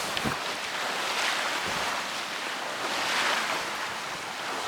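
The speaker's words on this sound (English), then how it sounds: "we've got 23 knots of wind, and we're doing 6 knots" Strong wind and breaking waves rush steadily past a small sailboat beating up a channel under jenny alone in about 23 knots of wind, with loud, continuous gusting wind noise on the microphone and water sloshing along the hull.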